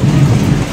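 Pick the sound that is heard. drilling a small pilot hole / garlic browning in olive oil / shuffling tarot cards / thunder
thunder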